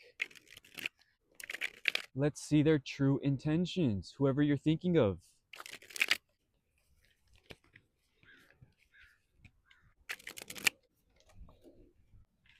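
Shuffling of a tarot card deck, with bursts of crisp riffling and card flutters between spoken phrases and a few quieter shuffles later on.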